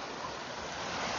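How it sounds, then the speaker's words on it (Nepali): Clear water rushing out from a collection chamber at a drinking-water project after rain, a steady broadband roar with no talk. "बाढी होइन क्या, त्यो सङ्लो पानी"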